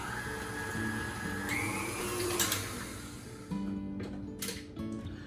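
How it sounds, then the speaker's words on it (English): A stand mixer creams cream cheese and sweetener in a bowl, a steady loud motor whir with a whine that shifts pitch midway before rattling near the end. "So let's just lock that in place and cream this together."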